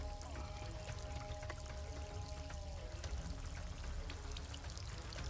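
Water pouring and trickling out through an armadillo shell used as a strainer while cleaning game outdoors, a steady continuous splashing flow with no talk.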